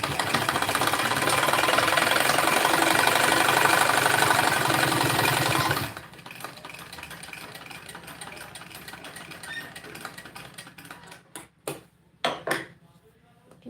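A sewing machine stitches suit fabric in a loud, fast steady whir for several seconds, then stops, leaving quieter handling noises and scattered clicks.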